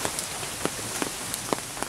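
Rain falls steadily in a spa garden in Lanna-style northern Thailand, a soft continuous patter with scattered sharper drips landing nearby, with no voices.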